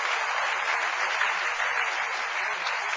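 A church congregation applauds steadily and loudly throughout, a dense continuous clapping with no break.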